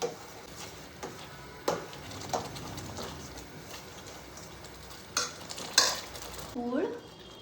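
Chana dal stirred in ghee in a pan while making puran poli filling, with a soft steady sizzle under repeated scraping strokes of a spoon against the pan, close by.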